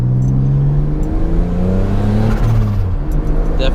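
A turbocharged J32 Honda Accord engine revs hard under boost, loud and close. The pitch climbs through repeated rising sweeps as the car accelerates.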